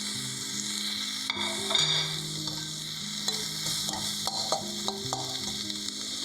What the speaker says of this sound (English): Okay, so now to this mix I will add the chopped tomatoes. This I will mix it here.